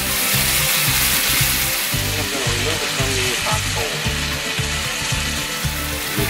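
Brats and kielbasa with sauerkraut fry loudly over coals, a dense continuous sizzle with rhythmic stirring scrapes and small pops, close up.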